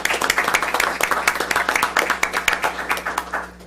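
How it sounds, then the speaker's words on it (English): People at a school board meeting clap for a few seconds, a close patter of individual hand claps from a small group, with faint talk mixed in. "I think that deserves a round of applause."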